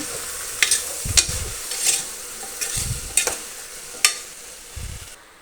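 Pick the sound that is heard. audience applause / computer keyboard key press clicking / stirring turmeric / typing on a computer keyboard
stirring turmeric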